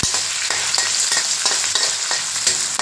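Small onions sautéing in oil in a pan for fish curry, a loud continuous sizzle broken by regular scraping stirs, close and without talk.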